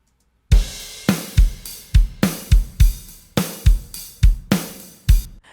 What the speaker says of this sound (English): now my drums are completely processed, ready to go, and they sound great with the track